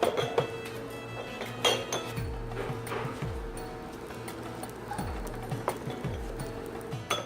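A spoon clinks against a glass or cup while stirring cocoa powder and sugar into hot water, scattered light taps and scrapes with a faint background hum.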